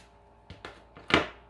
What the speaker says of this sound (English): I'm going to just kind of run my scissors down the center of it to make it two thinner